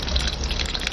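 Water rushes into an LG inverter washing machine as it fills, a steady, close hissing pour with no break.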